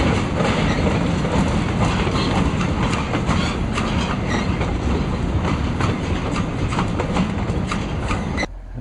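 Railroad cars roll along a track in Mexico's Copper Canyon with a loud, steady rumble and faint clickety-clack, continuous throughout with wind noise and no talking.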